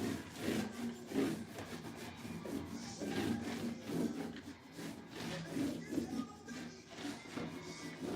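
Paint colors get rubbed into a surface by hand, a soft, close scrubbing and rasping in uneven strokes, fairly quiet, with no talking.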